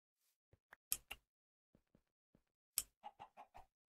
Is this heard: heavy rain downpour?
no